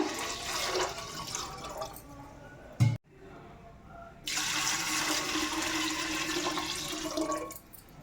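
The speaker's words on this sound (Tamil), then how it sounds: "இப்போ நம்ம தேவையான அளவு தண்ணி ஊற்றிக்கலாம் ஃப்ரெண்ட்ஸ்" Water poured into Pongal pots during a home Pongal festival celebration makes a close, full gushing splash. It breaks off with a clunk near the middle, then returns strongly and runs to the end.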